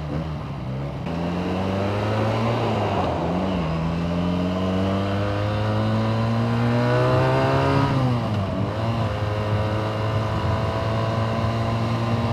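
A Benelli TNT 250 motorcycle engine revs up with a smooth rising whine, drops briefly as it shifts, then climbs again, loud and steady throughout.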